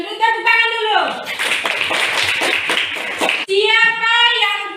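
A classroom of students bursts into a roughly two-second round of dense applause, sandwiched between a voice speaking before and after it.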